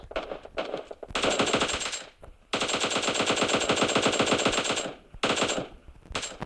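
Automatic gunfire in a Turkish-language battle-royale video game fight: rapid, evenly spaced machine-gun bursts, loud and close, in three runs separated by brief pauses, with no talk.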